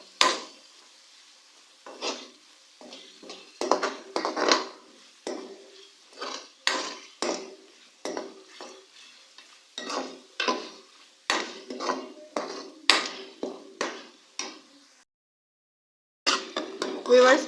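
A spoon scrapes and knocks against a cooking pot as spice masala for Lahori fish fry is mixed, in repeated rhythmic clattering strokes up close, with a short pause near the end before the stirring resumes.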